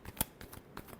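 Tarot cards are shuffled in a brief flurry of soft riffling slaps and flicks, close and quiet, with no talking.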